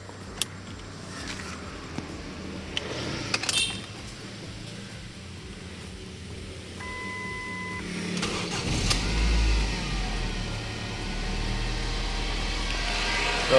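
A stock Ford Mondeo is cold-started after a few quiet clicks and knocks: the engine cranks and catches, then settles into a steady, low, close idle rumble that runs to the end.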